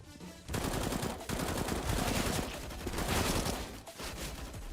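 Rapid automatic FAMAS rifle fire in the video game CS:GO, loud dense bursts of gunshots with brief pauses between volleys, no talking.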